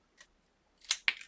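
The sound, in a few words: scissors snipping acetate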